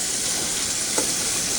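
Small pieces of pork frying in a pan give off a loud, steady, close sizzle with a constant hissing texture and one faint brief clink, with no talking.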